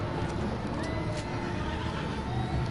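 Horse neighing in the video game Red Dead Redemption 2, a brief whinny over a steady background of game ambience and low rumble, fairly close and moderately loud.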